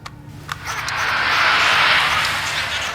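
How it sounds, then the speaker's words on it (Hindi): A heavy SUV-type engine passes at about 60 km/h, heard as a recording on tape: a broad rushing roar that swells over a second or so and stays loud, with a steady low rumble underneath. "एक एसयूवी टाइप हेवी इंजन की आवाज है"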